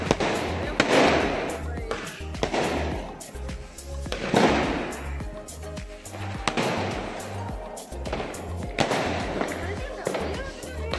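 Diwali fireworks and firecrackers going off outdoors, with repeated booming bursts and crackling blasts at irregular intervals, a steady noisy background, and people talking in between.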